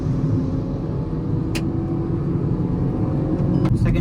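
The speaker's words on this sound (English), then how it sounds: "let's launch this. You can hear some wheel spin" A Hyundai Aura compact sedan launches in first gear with brief wheel spin, a loud, close engine rumble building under acceleration, with a few short sharp bursts over the drone.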